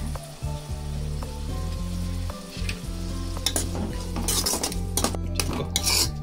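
Two ingredients with salt cook in a pan for Hyderabad egg curry, a constant sizzle under busy metallic clatter and scraping of a utensil against the pan, growing louder and sharper near the end.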